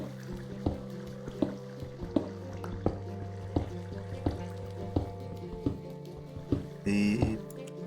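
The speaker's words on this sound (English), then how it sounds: "so you can also hear more flowing water" Minecraft flowing water near a cave, heard as a steady run of regular dripping plinks roughly every half second over a low watery bed, with a brief louder splash near the end.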